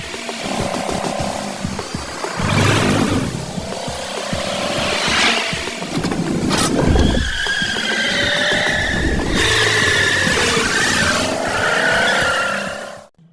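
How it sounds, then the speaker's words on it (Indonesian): Race cars in a racing film roar past with loud sustained engine revving, tyre squeals and skids, a dense continuous mix with rising and falling engine pitch, then a sudden cutoff. "Mamang Sen pun langsung menggeber mobil berusaha sekuat tenaga menyusul kelompok Bing"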